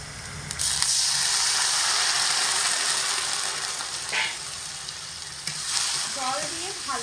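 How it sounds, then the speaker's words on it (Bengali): Spices with salt, turmeric and a splash of water sauté in a pan over medium heat for an egg dish, giving a steady, close sizzle with stirring scrapes throughout. "মশলাটা মিডিয়াম আঁচে রেখে কষিয়ে নেব"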